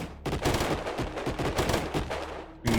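Attackers open fire in the Colony Ship video game: rapid, dense bursts of gunshots crackle almost continuously, loud and close, with a brief pause before a final burst.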